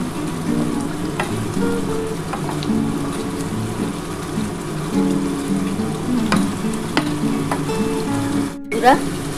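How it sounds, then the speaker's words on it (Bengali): Duck eggs sautéing with fenugreek in a pan for restaurant-style egg korma, a steady close sizzle and crackle with occasional stirring scrapes and a sharp clatter near the end. "এবার আমি ডিমটা দিয়ে দিলাম মেথিটা দিয়ে একটু ভালো করে কষিয়ে নিই"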